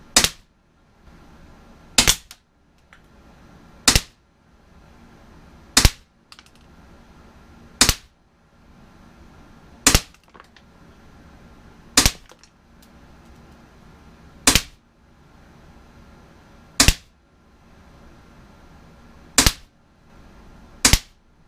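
Umarex Smith & Wesson M&P 40 blowback BB pistol fired ten times at a steady pace about two seconds apart, each a sharp, loud snap with a faint clack and quiet gaps between shots.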